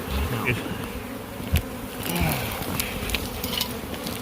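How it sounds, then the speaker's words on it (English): A dense, steady buzz of many bees swarming close by around an underground nest, droning continuously with no voices. "Look at all them bees."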